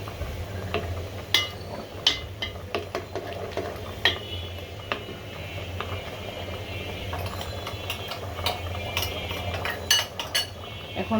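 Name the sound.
stirring nut, milk and rice flour mixture into curry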